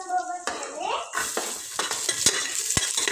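Mustard seeds and ginger garlic paste sizzle and fry in a pan while a spoon stirs and scrapes, with sharp clinks against the metal, close and moderately quiet.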